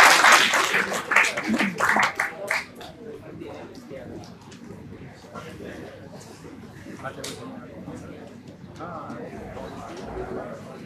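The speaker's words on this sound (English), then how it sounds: "Please give a big round of applause for Amit Anand sir." Audience applause for a guest speaker at a 5G technology event, starting as brisk, fairly close clapping and fading within a few seconds into quieter background murmur and voices.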